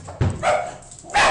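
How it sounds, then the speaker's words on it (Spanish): Several dogs bark in the background at home during a Spanish-language game stream. The barks come as a couple of loud, close bursts with a voice briefly heard among them. "perdón por los perros"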